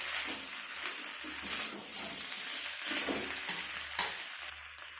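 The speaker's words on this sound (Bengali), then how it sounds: "আমি ভালো করে নেড়ে ছেড়ে নেবো" Boiled potatoes are stirred in a pan, giving soft scraping and light sizzling. Irregular clinks and rustles build to a sharper knock near the end, with no voices.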